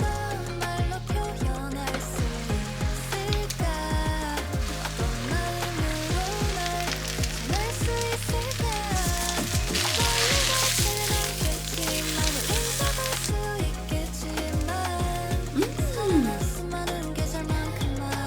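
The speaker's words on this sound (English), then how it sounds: "we're going to make kimchi fried rice with some bok choy" Kimchi fried rice with bok choy sizzles steadily in a hot pan, with a continuous crackling hiss running underneath background music throughout.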